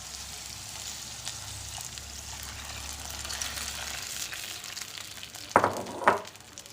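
Thin second-press coconut milk is poured into a simmering vegetable stew, with a steady sizzle and bubbling throughout and a couple of sharper splashing, stirring bursts near the end.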